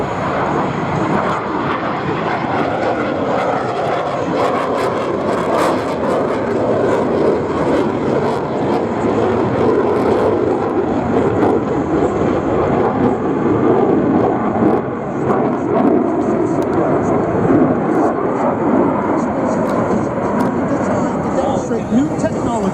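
MiG-29 jet at an air show, a loud sustained engine roar that holds steady throughout, with a public-address announcer talking over it.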